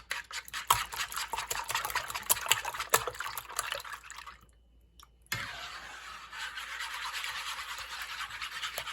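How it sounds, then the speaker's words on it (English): Eggs whisked in a bowl: a busy, fast rattling and clicking of a whisk, close and steady, pausing briefly midway before resuming with an even swishing churn. "all you have to do is give them a whisk up"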